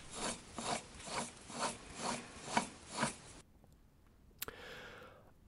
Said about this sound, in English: And you can also hear the unhealthy sound of the spindle